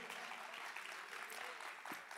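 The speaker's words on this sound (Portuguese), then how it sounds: "Palmas para Zezé de Camargo" Faint, steady applause from a stand-up comedy audience, a soft wash of many hands clapping with no voices on top.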